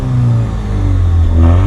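Steady, loud exhaust drone from the 2-liter engine of a 2021 Alfa Romeo Stelvio Sprint, humming close by as the revs swell slightly toward the end, with no voices.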